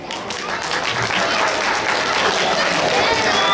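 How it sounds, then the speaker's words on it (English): A live crowd at a sword-swallowing stage act bursts into sustained applause and cheering, loud and continuous, with voices mixed into the clapping. "with applause like that, I'm only going that deep."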